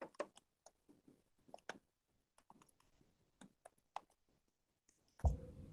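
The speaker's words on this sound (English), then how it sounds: "She's typing fast." Rapid clicking of computer keyboard keys during a county budget meeting, a quick irregular patter of light taps spread through the clip, fairly faint and close, ending in a louder thump near the end.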